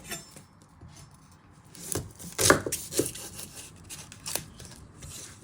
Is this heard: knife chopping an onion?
yes